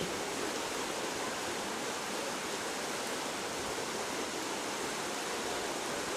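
Strong floodwater from the Sai River pouring through flooded streets of Mae Sai, Thailand: a dense, unbroken roar of rushing water, close and constant, with no voices over it.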